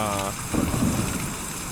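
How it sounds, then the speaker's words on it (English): Heavy rain in the video game Kentucky Route Zero hisses steadily and densely, with a brief voice at the start and low rumbling underneath. "it's just chucking it down, rain."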